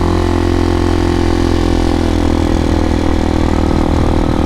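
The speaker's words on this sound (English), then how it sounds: "You can hear the engine sound as well, or the exhaust is just a lot louder." Amazon X-Pro motorcycle engine and exhaust, a steady loud drone with a low pulsing thrum, holding constant throughout while riding on a bumpy road.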